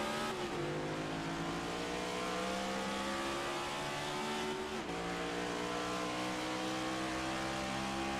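A race car in the iRacing video game at Las Vegas Motor Speedway accelerates hard through the gears, its steady loud engine whine climbing in pitch with one sharp shift partway through, heard alone.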